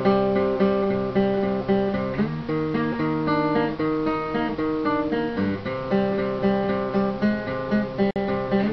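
An electric guitar plays a repeating riff, with sustained, ringing notes shifting between a few pitch patterns, steady and close, with no voices.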